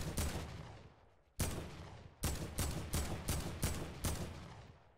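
Gunfire in the video game Fortnite, a series of sharp, loud individual shots, a few spaced apart and then a faster run of evenly timed blasts, each trailing off briefly.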